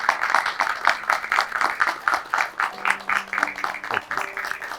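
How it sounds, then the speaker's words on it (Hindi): An audience claps steadily in welcome for the poet Nawaz Deobandi at a filmed interview, the applause rising and falling in dense bursts with a faint tonal hum underneath and no voices over it. "नवाज़ देवबंदी साहब का ज़ोरदार तालियों के साथ स्वागत किया जाए।"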